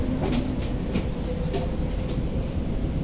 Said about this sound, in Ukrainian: Там двохповерховиця електричка.